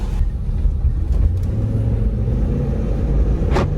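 A newly bought car's engine idling while it warms up, a steady close low rumble with a few faint knocks and one brief sharp noise near the end, and no voices.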